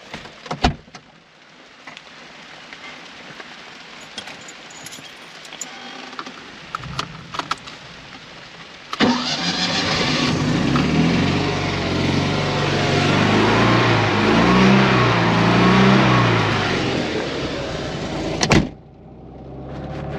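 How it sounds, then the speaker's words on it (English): An orange Fiat 126p Maluch: a few clicks and thumps, then the small engine catches and runs loudly for about ten seconds with an uneven, revving idle before being cut off abruptly. "let's start the engine together, and hopefully it does start"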